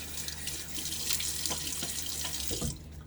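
A bathroom tap runs steadily into a sink before a shave, a close, continuous hiss of splashing water that cuts off near the end.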